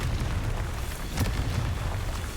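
Confringo blast spell from Hogwarts Legacy erupting in a brief rumbling fiery burst, a low crackling boom with a sharp pop near the middle, fairly quiet and without voices.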